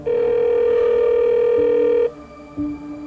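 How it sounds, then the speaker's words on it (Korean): A telephone dial tone sounds loud and steady for about two seconds, then cuts to quieter tonal beeps as the line changes, with no voices. "다시 피해자 집으로 전화를 걸었다고 했는데요"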